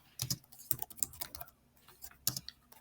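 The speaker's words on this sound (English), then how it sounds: "I don't really like this keyboard because you can't hear the click-clacky." Fast, light typing on a computer keyboard with soft, muted keys, heard as close, irregular bursts of tapping with short pauses between.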